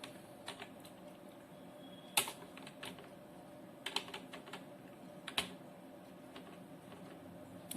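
Scattered computer keyboard keystrokes, a few sharp isolated clicks with short pauses between them, close and fairly quiet against a faint room hum while commands are recalled with the up and down arrow keys in an SQL session.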